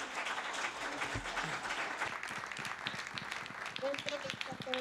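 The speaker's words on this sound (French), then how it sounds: "Et une main d'applaudissement" Audience applause at a meeting, a spread of claps under overlapping voices and chatter, moderately loud and continuing for several seconds.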